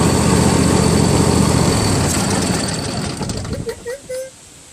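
A Husqvarna lawn tractor riding mower engine idles at lowest throttle with a steady, buzzy drone that fades and cuts out, leaving a few faint tones before silence.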